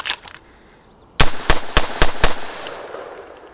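An AR-15 rifle fitted with an upgraded silent-capture recoil buffer fires five rounds of steel-case ammunition in quick succession, giving five loud, sharp reports at a fast, even pace after a quiet lead-in, with the last shot trailing into an echo.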